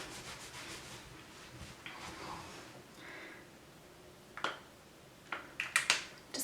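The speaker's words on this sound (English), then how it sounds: "Let me just rub off my hands." Hands rubbing together to wipe off makeup primer, a soft, quiet rubbing and brushing that swells and fades, ending in a few sharper light taps and scrapes.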